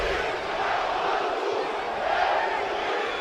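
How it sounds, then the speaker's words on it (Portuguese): Football supporters at the Guarani vs Primavera match in the Campeonato Paulista chant and roar as one dense, sustained crowd sound, loud and unbroken throughout. "Olha a torcida."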